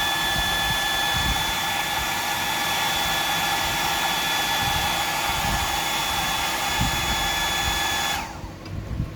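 A hair dryer blows steadily and loudly, drying coats of iridescent paint on a handmade fishing lure, its whine continuing almost to the end before it cuts off abruptly.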